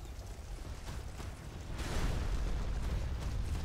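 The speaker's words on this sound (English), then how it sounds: "It's gonna be big explosions." Big explosions roar during a Dark Souls 2 boss fight against the Burnt Ivory King, a dense rumbling blast of game audio that swells louder about halfway through and stays heavy to the end, with no talking.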